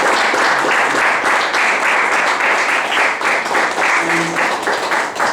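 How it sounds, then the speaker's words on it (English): A Toastmasters audience gives a loud, sustained round of applause, dense and continuous from start to finish with no speech over it. "can we have a round of applause for"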